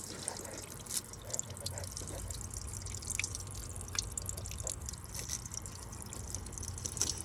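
Coolant drips and trickles steadily from a failing water pump on a 2014 Lincoln MKS, with occasional sharper drops, set against a constant low engine hum nearby.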